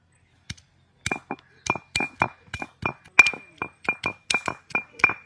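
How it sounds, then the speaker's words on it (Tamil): Roasted goat legs are struck and broken apart outdoors during village-style cooking: a series of sharp, hard knocks and cracks, some ringing briefly, landing irregularly and close by. "ஆட்டுக்கால தட்டி எடுத்துக்கலாம்."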